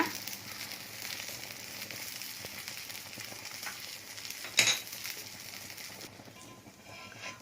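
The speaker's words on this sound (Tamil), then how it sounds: "ஒரு பக்கம் பொரிஞ்சிருச்சு. இப்போ இதை எடுத்து திருப்பி போட்டுக்கலாம்." Rice batter made from leftover cooked rice and ration raw rice frying in a pan over a medium flame, giving a steady soft sizzle with light crackle, close and continuous, with one brief louder clatter midway.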